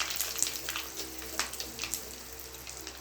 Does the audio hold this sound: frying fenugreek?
yes